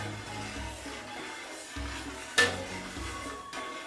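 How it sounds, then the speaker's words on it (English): Milk being stirred in a pot during cheese making, with soft swishing and scraping under a steady low hum, plus one sharp metallic clink of a utensil against the pot near the middle. "And we stir that through, gives the milk just a tinge of green."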